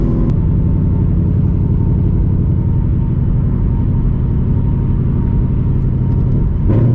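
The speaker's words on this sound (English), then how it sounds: "warm the tires up right there" A loud, close car engine hums in a deep, steady rumble as the driver warms up the tires, the tone holding constant with a brief shift near the end.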